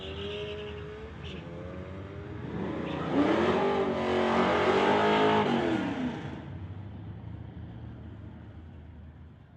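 A blue Volkswagen accelerating down a drag strip, engine rising in pitch and swelling loud as it passes at speed, then fading, with faint background noise.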